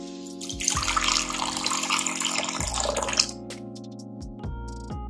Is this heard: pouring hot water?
yes